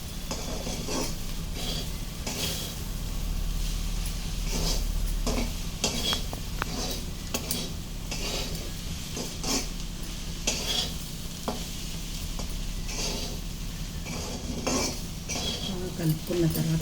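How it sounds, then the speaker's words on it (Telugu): Amaranth leaves with salt and turmeric are stirred in a pan, repeated spoon scrapes and metallic clinks over a soft sizzle, steady and close throughout. "బాగా కలుపుకోవాలి"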